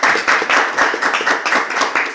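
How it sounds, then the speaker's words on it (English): A small audience at a scholarship award and voter registration event applauds, with close, loud claps in an uneven rhythm across a couple of seconds, no talking. "let's have a round of applause for you"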